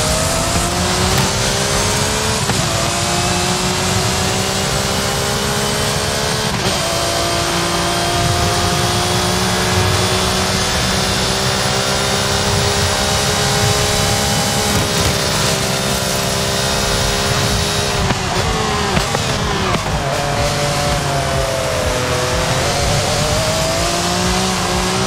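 Loud, continuous car engine revving and shifting through gears during a night street race in Forza Horizon 5, set in Mexico, with the engine note rising and dropping repeatedly and no talk over it.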